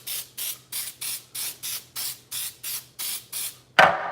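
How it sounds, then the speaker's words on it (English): Cooking spray squirted onto a loaf pan in eleven short, even hissing bursts in a steady rhythm, close and fairly loud, ending with a sharp clunk as the can is set down. "Spray down your pan real good."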